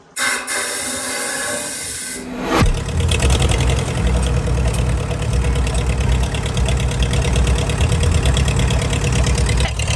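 An old engine, its fuel system just cleared of rubbery varnish clogs, cranks and fires at about two and a half seconds, then settles into a loud, steady, close-up running rumble that carries on without talk.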